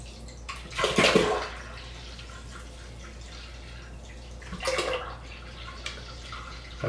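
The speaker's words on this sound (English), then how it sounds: "adding a gallon of water" Water poured from a gallon jug into a 2-gallon bucket already holding honey for mead: a short splashing gush, a quieter stretch of trickling, then a second brief pour, close and moderately loud.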